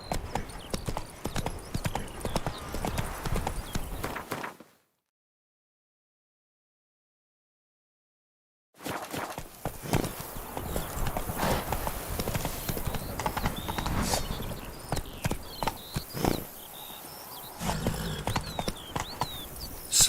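Roach the horse gallops in The Witcher 3, hooves clip-clopping in a fast, steady rhythm, loud and close, broken by a few seconds of silence before the hoofbeats resume.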